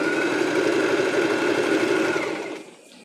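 A sewing machine runs steadily, stitching the folded hem of a child's crochet dress with a close, even mechanical whir and buzz that holds for most of the time, then slows and stops near the end.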